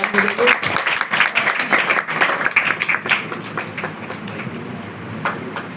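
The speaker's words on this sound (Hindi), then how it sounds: "जोरदार ताली बजाइए।" A church congregation claps loudly in a rough rhythm, hard individual claps over a murmur of voices, tapering to scattered quieter claps toward the end.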